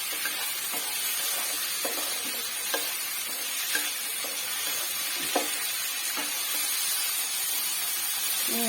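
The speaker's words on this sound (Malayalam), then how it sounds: "നല്ലതായിട്ടൊന്ന് മൂക്കട്ടെ കിടന്ന്, മൂത്താലേ കൊള്ളത്തുള്ളൂ" Spiced jackfruit seeds, cooked with chilli powder, turmeric and salt, sizzle steadily in an oiled pan, with a constant frying hiss broken by occasional sharp pops and stirring scrapes; no voices.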